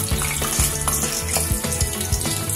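Sliced onion frying in a pan with bottle gourd gives a loud, close, continuous sizzle, broken by brief stirring scrapes, with no talking.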